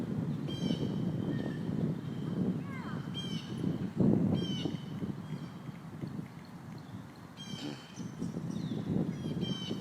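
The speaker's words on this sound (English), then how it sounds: "Can you hear the birds?" Birds call outdoors in scattered, faint chirps and caws over a steady rush of wind or distant ambient noise, with several brief calls spread across the stretch.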